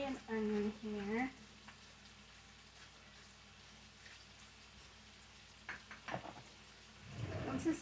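Celery and onion sizzle softly in a pan as seasonings go in, a faint steady frying hiss between stretches of a person talking at the start and end.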